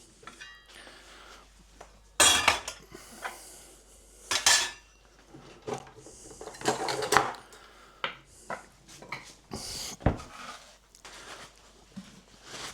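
Broccoli being cut in a home kitchen: irregular bursts of knife clatter against a board and dishes, close and fairly loud, with quieter handling noises between.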